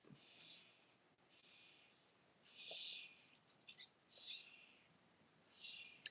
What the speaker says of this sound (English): A lot of birds outside right now.